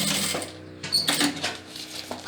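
A sewing machine stitches bias binding onto a plastic box-style necessaire, with a steady motor whir broken by a short pause before it runs again at close range.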